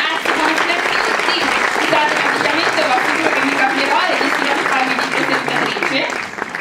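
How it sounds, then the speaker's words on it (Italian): A Christmas concert crowd at Note di Natale 2014 breaks into loud, sustained applause, dense clapping filling the room with faint voices mixed in, tapering slightly at the end. "accogliamola con un applauso"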